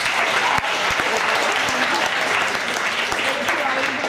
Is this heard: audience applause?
yes